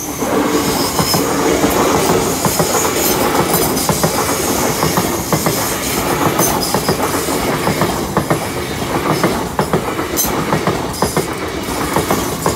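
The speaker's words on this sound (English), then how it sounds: "Train's here." A loud train rumbles past close by at a level crossing, wheels clattering in steady rhythm with squeals and hiss throughout, no voices.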